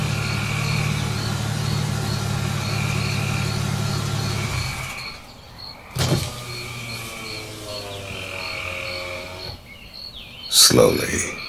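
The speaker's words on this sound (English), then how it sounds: "A black sedan rolled up the long dirt road." A black sedan rolls up a long dirt road, its engine humming steadily at first, then fading into a quieter outdoor scene with birds chirping and a short thump near the end.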